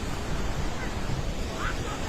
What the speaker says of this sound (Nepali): खोला हेर्नु गाइस खोला